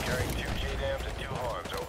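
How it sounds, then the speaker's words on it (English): M203 underbarrel grenade launcher firing in Call of Duty: Modern Warfare 2 Remastered, muffled thumps and distant blasts amid a dense battlefield din with shouted voices over the top. "I'm like really good with this thing! The M203 underbarrel grenade launcher!"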